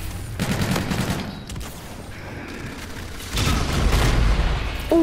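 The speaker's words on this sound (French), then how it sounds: "je me suis fait mitrailler en le bas, puis je me suis fait pitcher une grenade" Machine gun fire and a grenade in the video game Call of Duty: Infinite Warfare: dense rattling bursts of gunfire over a steady rumble, then a heavy booming blast that swells louder near the end.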